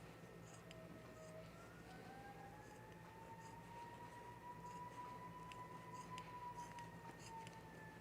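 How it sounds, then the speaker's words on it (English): A faint, distant siren wails steadily with slowly rising and falling pitch over a constant low background rumble. "Can you hear those sirens?"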